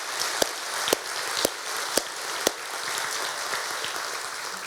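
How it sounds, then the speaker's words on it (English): Broad, steady applause fills the room at an awards gala, with a few sharper claps standing out in a regular rhythm over the continuous patter. "please join me in a round of applause"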